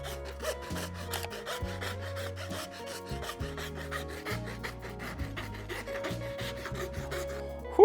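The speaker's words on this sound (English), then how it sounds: "start sharpening the blade. Armed with sandpaper, sanding blocks, and a metal file" A cardboard sword blade is sharpened with sandpaper, sanding blocks and a metal file, producing steady rhythmic rasping strokes, close and moderately loud, with a brief louder knock at the end.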